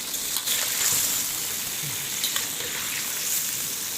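Chicken pieces fry in oil in a karahi for Kashmiri-style chicken karahi, giving a steady close sizzle with occasional crackles and spatters, alone without talk.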